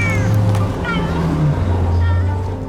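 A kitten meows repeatedly and close by, its cries overlapping a steady low engine-like hum throughout.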